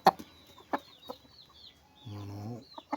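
A young chick with a crooked, twisted beak gives thin, high peeps in a quiet spot, several short calls spread apart, with a brief lower clucking or voiced sound near the end.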